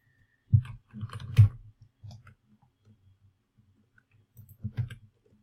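A few mouse clicks on a copy-code button, quiet and close, separated by short pauses, with one more pair of clicks near the end.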